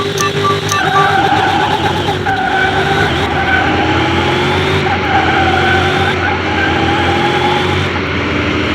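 A tuned Corvette drag car in Car Mechanic Simulator 2021 screams through its gears with loud, steady tire skidding and squeal over a high-revving engine drone, close and continuous, with brief sharp clicks near the start and no talk.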